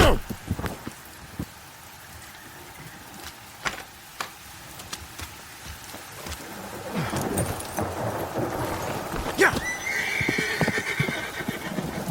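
A horse neighs and its hooves clop amid a heavy downpour of rain, with a loud whinny late on and steady rain noise swelling through the second half.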